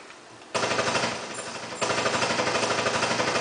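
Automatic gunfire in the tactical shooter Ghost Recon: Advanced Warfighter rattles in a loud continuous burst, stepping up in intensity partway through, with no talk.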